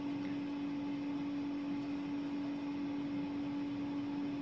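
An airbrush makeup gun's compressor running, a steady close hum with a constant pitched drone and airy hiss, unbroken throughout.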